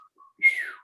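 A cardinal gives a clear, bright whistled call outdoors, a short downward-sliding note preceded by a couple of faint thin chirps.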